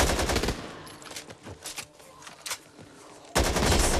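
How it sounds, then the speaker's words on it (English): Gunfire in the Back 4 Blood video game with a sniper rifle, sharp repeated shots spaced irregularly with a heavy loud crack near the end, no talking. "Sniper rifle."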